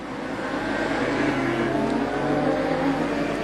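Production sedan race cars at Gympie Speedway roar steadily as a pack laps the track, engines droning continuously at close range with no talk over them.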